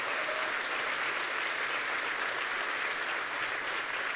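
An audience claps through a live presidential speech on the economy. The dense, sustained applause fills the whole stretch at an even level, with no speech over it.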